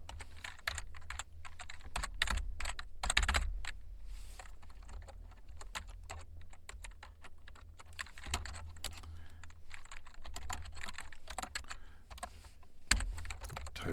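Rapid typing on a computer keyboard, a steady run of close, crisp key clicks with small bursts and pauses, over a low hum and with no talking.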